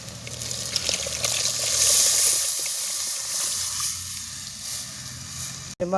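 A dissolved mixture poured into sautéed onions and curry leaves in a hot pan for a fish head curry, a loud hissing sizzle with trickling liquid that swells and then settles into a steady simmering crackle.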